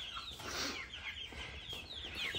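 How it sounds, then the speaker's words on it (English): Young meat chickens clucking and chattering together at close range, a steady busy flock noise with some fluttering. "So here's the little chickens."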